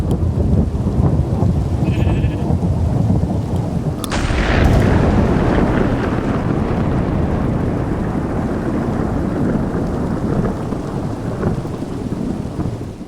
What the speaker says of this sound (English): This mod just adds some more realistic thunder and weather sounds to the game.